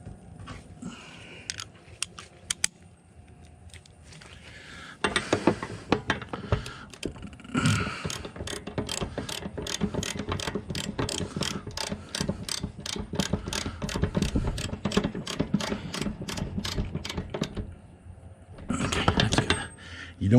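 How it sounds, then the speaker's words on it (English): A plastic drain plug being screwed back into the water heater of a Jayco Jay Flight camper, with a steady run of close, rapid ratcheting clicks and scraping turns that stops near the end. "we're going to screw the plug right back in"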